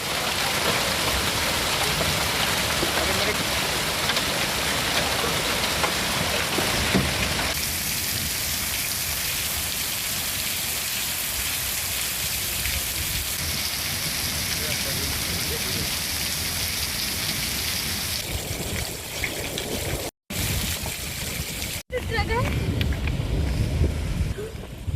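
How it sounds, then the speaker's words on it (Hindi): Heavy rain with hail pounds down steadily and loudly for the whole stretch, close and dense, with brief dropouts near the end. "तेज बारिश के साथ ओलावृष्टि हो रही है"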